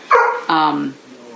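A dog gives two short, close barks in quick succession, with a faint whine trailing off afterward.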